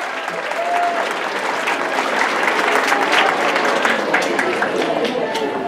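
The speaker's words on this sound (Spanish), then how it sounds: "Fuerte aplauso para él, por favor." Audience applause fills a school gathering at a technical secondary school, a dense steady wash of clapping from a large crowd that runs loud and even throughout, with a few faint voices underneath.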